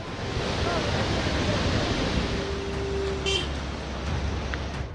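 A flooded, raging river swollen by days of monsoon rain, its water roaring as a dense, continuous rush that stays loud throughout, with a faint tonal hum and a brief high whine in the background.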